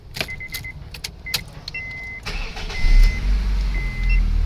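A car engine cranks and catches at a workshop during electrical testing, preceded by a few sharp clicks and key jangles, then settles into a loud low rumble close by.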